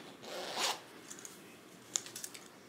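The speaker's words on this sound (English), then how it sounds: "we zip this up" A zipper is drawn up on a sweater in one quick, close rasping pull, followed by a few small clicks and rustles of fabric.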